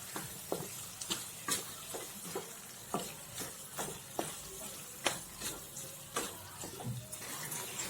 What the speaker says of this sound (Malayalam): ആവശ്യത്തിന് ഉപ്പ് ചേർത്ത് കറിവേപ്പില കൂടെ ചേർത്ത് കൊടുക്കാം. ഇനി നന്നായിട്ടൊന്ന് ഇളക്കിയെടുക്കാം.